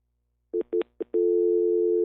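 On a radio show's dropped call line, three short telephone beeps give way to a continuous steady tone, loud and clean against silence.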